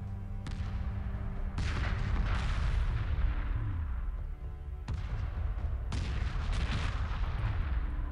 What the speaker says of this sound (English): That's a lot of rockets heading for them.